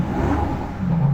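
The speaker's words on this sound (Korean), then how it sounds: "머플러 소리 한번 들어드릴까요?" Maserati exhaust muffler revving, a steady low engine rumble with a deep rising growl, close and continuous through the whole moment.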